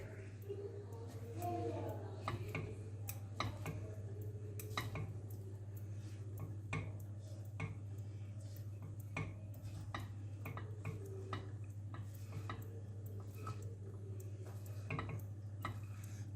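A spoon stirs rice pilaf with parsley and dill in a pot, giving soft, repeated scraping and light metallic ticks at close range over a steady low hum.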